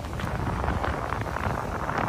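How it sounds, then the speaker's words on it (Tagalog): Strong wind at a Manila Bay beach buffets the microphone in a continuous, loud, rough roar. "Pasensya na kung maingay yung ating video dahil napakalakas po ng hangin ngayon"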